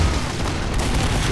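A cannon in the Team Fortress 2 game fires in a loud, dense burst of booming blasts and crackling noise that fills the whole short moment without pause.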